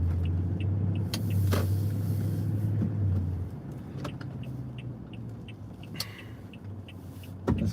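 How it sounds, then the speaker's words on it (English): Cars on the Route 128/I-95 belt in heavy rain and lightning, heard as a steady low road rumble with occasional sharp knocks and swishes, fairly loud and without talk. "And cars coming, can't see,"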